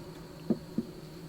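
Honey bees hum softly around an opened horizontal hive during a small hive beetle inspection, a faint steady insect drone with two brief louder bumps.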